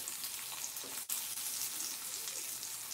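Steak sizzles in a frying pan, a steady close crackle and hiss broken by one brief gap, with no voices.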